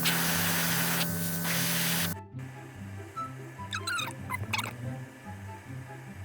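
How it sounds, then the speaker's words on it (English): An airbrush sprays paint onto a handmade sculpture of a cartoon character, giving a steady hiss for about two seconds before it cuts off, followed by quieter handling noises and faint background sounds. "Let's go get that airbrush."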